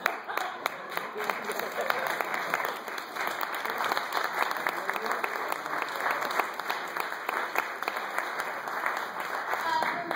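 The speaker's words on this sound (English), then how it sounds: "why don't you clap if you don't think either one of them won?" Sustained applause from a theater audience voting by clapping in a talkback after a play, dense and continuous for the whole stretch with a few louder sharp claps on top.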